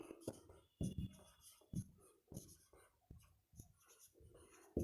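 A pen scratches across paper in short bursts of strokes, each stroke a quick rasp separated by brief pauses, close and fairly quiet in a still room.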